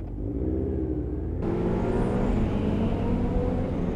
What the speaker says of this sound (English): That bike sounds so beastly.